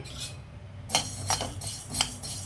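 Coriander seeds tumbling into a hot, dry kadai, a few light rattling clinks and scatters in short bursts, close and fairly quiet.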